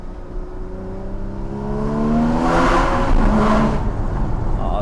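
A Porsche Cayman GTS 981 flat-six engine, warmed to temperature, pulls hard while driving, its note rising through a rev sweep to a loud peak, then easing as the next gear engages, heard close from inside.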